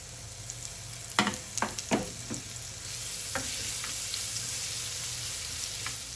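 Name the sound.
crushed shallots and green chilies sizzling in hot ghee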